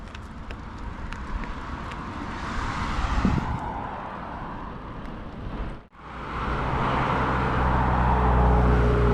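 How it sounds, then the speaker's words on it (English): Steady road traffic on a roadside near a trail, with cars rushing past continuously; one vehicle whooshes close by at the midpoint, then the roar of passing cars builds again, fairly loud and without talk. "Traffic does not stop."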